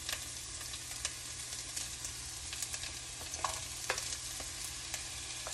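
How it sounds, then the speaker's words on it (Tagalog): Onion and tomato sautéing in a pan for a Filipino fried mackerel kinamatisan dish, a steady close sizzle and frying hiss with occasional stirring scrapes and clicks throughout. "Mag-impisa tayo dito sa sibuyas at kamatis."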